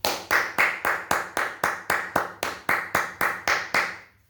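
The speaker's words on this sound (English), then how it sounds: "Clap your hands." Hands clapping alone in a steady, even rhythm, about sixteen loud, crisp claps spaced evenly over four seconds, close to the microphone with a short ring after each.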